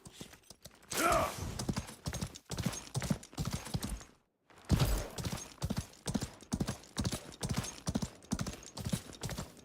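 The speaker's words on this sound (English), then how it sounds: "at least the horse speed feels pretty quick when you're like galloping and such" A horse gallops in the video game Highguard with rapid, rhythmic hoofbeats, close and clear, in repeated clusters. The hoofbeats stop briefly for about half a second partway through, then the galloping resumes at the same quick pace.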